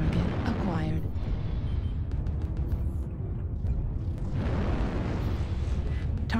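Heavy airstrike explosions rumble and boom in MechWarrior Online, a sustained roar of blasts with sharp cracks layered over it, while voice lines speak over the battle noise.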